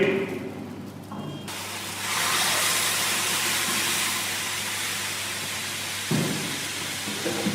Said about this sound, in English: Now we'll add milk to it.